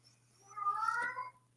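A house cat meows once from close by, a drawn-out, rising-and-falling call lasting about a second, alone against a low steady hum.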